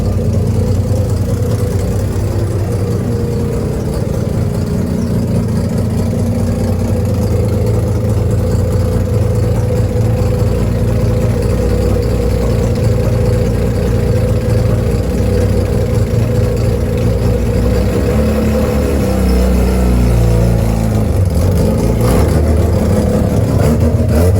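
A Mazda RX-7 FC Savanna rotary, back on the road after 15 years, idles and revs through its first drive, a loud, continuous engine drone close by that rises and falls, with no voices.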